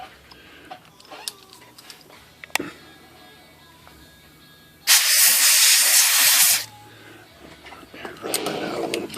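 A compressed air hose blasts a loud, steady hiss for under two seconds while blowing out parts of a Hermes Rocket typewriter, amid quiet ticks and handling sounds, with a softer hiss near the end.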